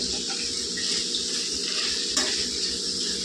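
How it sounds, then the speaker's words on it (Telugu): Chopped coriander stems and curry leaves being stirred into cooked tomatoes in a pan, a steady scraping and gentle sizzle with a brief utensil clink partway through. "ఇదంతా టమాటాల్లోకి వేసుకున్నామండి. వేసుకొని కలుపుకుంటా."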